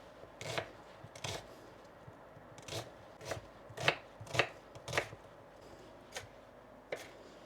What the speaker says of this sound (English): we'll just cut up some onions for the sauerkraut